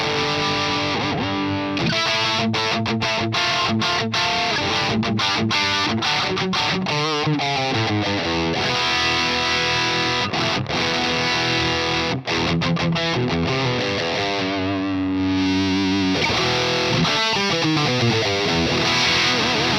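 Electric guitar played through a BluGuitar AMP1 Iridium Edition on its Marshall-style classic channel with the tone control turned counterclockwise, giving a dense, distorted, continuous riffing with chords and palm-muted chugs throughout.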